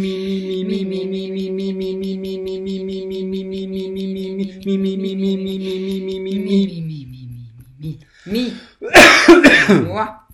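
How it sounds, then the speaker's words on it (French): A single voice holds a sustained sung vowel tone after a 'mi' vocal exercise, slides downward, then breaks into a loud burst of harsh coughing and throat clearing close to the microphone. "Ça fait tousser."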